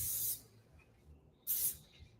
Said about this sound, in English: All you have to do is spray it on the leaf.